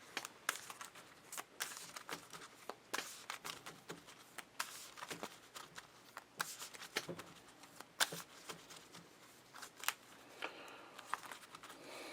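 KeyForge playing cards being shuffled and handled at a tabletop, a quiet run of close, crisp riffles and flicks in irregular bursts, with no talk.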